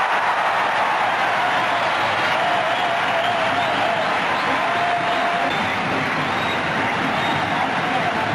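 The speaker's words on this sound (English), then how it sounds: "Crowd absolutely delighted." Stadium crowd roaring for a boundary at a 1996 Sri Lanka versus Australia day-night one-day cricket match in Colombo: a broad, sustained wash of cheering and babble, distant and steady throughout.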